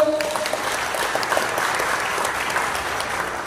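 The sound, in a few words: applause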